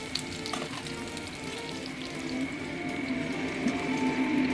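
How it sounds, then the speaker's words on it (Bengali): Potatoes fry in a pan for a fish-head chorchori, giving a continuous close sizzle that grows slightly louder, with faint scraping stirs. "তো এবার আলুটা ভাজাও হয়ে গেছে, প্লাস কিছুটা সেদ্ধও হয়ে গেছে।"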